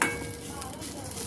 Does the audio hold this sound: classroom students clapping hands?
no